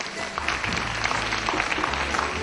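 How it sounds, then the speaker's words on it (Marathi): Audience clapping at the final episode of a Marathi cooking competition, a dense burst of applause holding steady for a couple of seconds, close and fairly loud. "यांच्यासाठी एकदा जोरदार टाळ्या."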